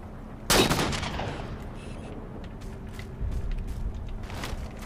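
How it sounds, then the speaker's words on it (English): A single loud, close sniper rifle shot cracks out in a Halo 4 firefight, its report decaying over a second, with distant gunfire bursts and game ambience continuing afterward. "Glad I brought a sniper rifle along."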